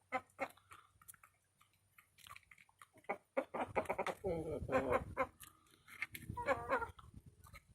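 Indian Game chickens cluck and chatter in a series of short, close calls, with a few louder bursts toward the end.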